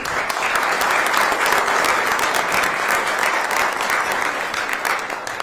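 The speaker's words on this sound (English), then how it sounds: "Let's give her a round of applause." An audience at a governor's bill-signing event bursts into sustained, loud applause, dense clapping that holds steady and then begins to fade toward the end.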